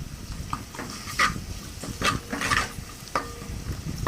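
Ginger garlic paste frying in a pan for tomato rice, a soft steady sizzle broken by several sharp scraping clicks of a spatula stirring against the metal, close and fairly quiet with no talking.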